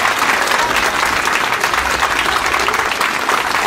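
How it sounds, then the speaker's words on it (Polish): Close, loud applause for a choir after carol singing at a live nativity scene: many hands clapping in a dense, steady roar throughout with no pause or talk. "Brawa serdeczne dla chóru Płomień."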